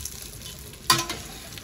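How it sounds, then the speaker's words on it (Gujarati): Khichdi muthiya stirred in a pan over low gas: a soft steady sizzle with one brief scraping stir of a spoon near the middle, close and quiet. "મુઠિયાને મેં બરાબર હલાવી દીધા છે."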